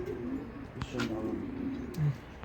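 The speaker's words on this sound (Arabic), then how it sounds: "الحمام رجعت يا اخوان" Pigeons coo softly in a low, warbling rhythm at a loft, with a few quiet clatters and faint background noise around them.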